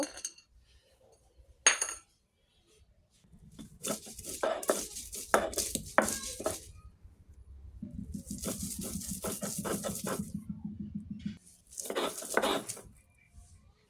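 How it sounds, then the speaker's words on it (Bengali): Raw peanuts being ground into paste on a grinding stone make rough, rhythmic scraping strokes in bursts with short pauses between, close and moderately loud, opening with a couple of sharp knocks. "এখন আমি বাদামটা ভালোভাবে বেটে নেব"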